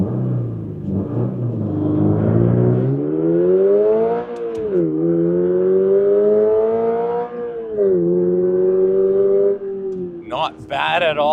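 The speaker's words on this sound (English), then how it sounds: "Let's see how this GR86 Hakone accelerates from a stop" A 2025 Toyota GR86 Hakone Edition pulls away from a stop on a damp road on winter tires, the engine note climbing steadily through the revs with brief dips at gear changes, loud and sustained.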